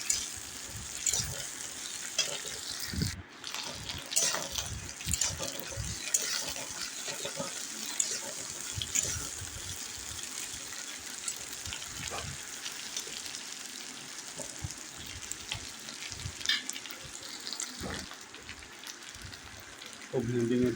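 Okra (bhindi) frying in oil in a pan for an onion and okra sabzi, a steady broadband sizzle with scattered stirring clicks and scrapes running throughout at close range.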